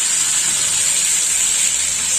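Water poured into a pan of frying turmeric and spices for aloo posto, giving a loud, continuous steamy hiss that holds evenly throughout.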